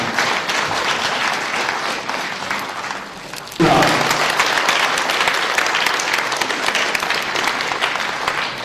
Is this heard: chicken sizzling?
no